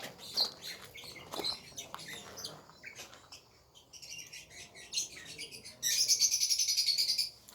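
Birds chirp intermittently nearby, with scattered tweets that build into a dense, rapid burst of high calls toward the end.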